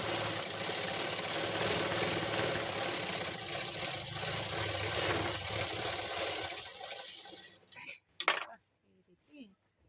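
A sewing machine stitching a nightie during a shoulder alteration runs with a steady, dense mechanical whir for about seven seconds, then stops, leaving a few short clicks and knocks.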